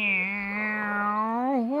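A human voice imitates a cat with one drawn-out, tonal meow that rises slightly at the end, close and clear with nothing else around it.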